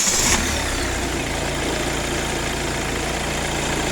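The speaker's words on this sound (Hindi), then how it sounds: "अभी हम इंजन हमारा आइडियल स्पीड पे स्टार्ट है। अभी हम देख रहे हैं किसी भी टाइप की कोई भी आवाज़ नहीं है, सिर्फ ओनली लिफ्टर्स की आवाज़ आ रही है इसके अंदर।" A Hyundai i20 engine idles at steady speed, a loud continuous mid-pitched hum with a fine ticking of the lifters running through it, heard up close with no talking.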